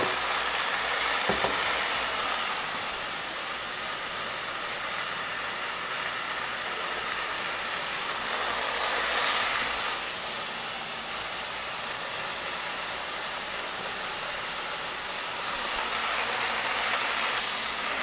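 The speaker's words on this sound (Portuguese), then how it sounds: "enquanto que o peixe está fritando" A steady, loud sizzling hiss of fish frying in hot oil, swelling slightly now and then, with no talking.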